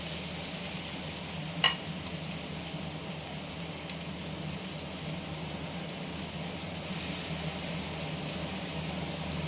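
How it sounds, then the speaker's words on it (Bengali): Snake gourd fries quietly in a kadai with a soft, steady sizzle and hiss. A single sharp click sounds near the start, and the sizzle swells slightly toward the end. "দিয়ে চিচিঙ্গাটা আমি ভেজে নেব।"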